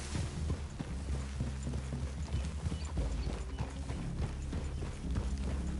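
Horse hooves clip-clop steadily in the video game Red Dead Redemption 2, a continuous rhythmic trot of several horses moving at a moderate level, accompanied by low rumbling ambience.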